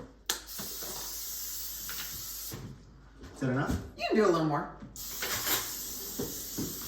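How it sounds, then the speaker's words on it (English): Short hissing bursts of a cooking oil spray can coating a baking dish open and close the clip, with people talking briefly in between. "Go ahead and just spray it"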